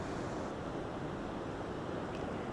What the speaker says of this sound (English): look at the waves coming on into the shoreline today